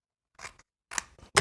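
Three crisp, close scissor snips trim paper, separated by short silences, with the last cut the loudest.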